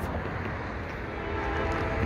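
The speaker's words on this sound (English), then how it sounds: "here comes San Joaquin Valley Railroad 2164" San Joaquin Valley Railroad locomotive 2164 rolling past at Mono Street in Fresno, a steady loud rumble of engine and rail noise with no talking.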